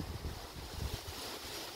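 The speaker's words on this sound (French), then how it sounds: "Un fort vent quand même" Strong wind during a thunderstorm with heavy rain, a steady, loud roaring rush with no pause over the short stretch.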